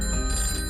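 A telephone rings with a bright, steady electronic tone in a short burst, part of a Hindi radio advertisement for a farmers' call-in advice programme.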